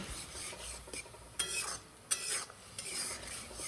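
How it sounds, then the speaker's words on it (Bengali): Masala with a little water fries and is stirred in a pan, with spoon scrapes and clinks at an irregular pace over a soft, steady sizzle, close and fairly quiet, with no talk. "কিছুক্ষণ নাড়াচাড়া করে গ্যাসের আঁচ কমিয়ে মশলাটাকে ভালোভাবে কষিয়ে নেব"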